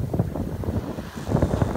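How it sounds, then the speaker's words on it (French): Low, rumbling wind gusts buffet the microphone steadily aboard a sailboat crossing the English Channel, with a soft rushing undertone of water moving past the hull. "le vent est maintenant bien installé"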